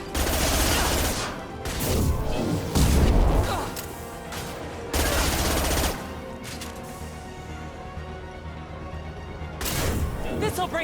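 Sustained bursts of game gunfire in Mass Effect 2 fights against Eclipse mercenaries, loud and dense, with heavier blasts between volleys and battle voices calling out under the shooting.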